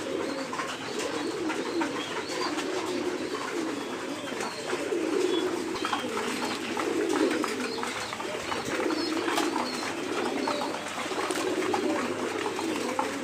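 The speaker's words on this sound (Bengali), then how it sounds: "আমার এই কবুতরগুলোর সাথে বাচ্চা আছে" Pigeons with their chicks coo in a loft, low throaty burbling calls repeating continuously and close by, several birds overlapping with occasional soft wing and shuffling sounds.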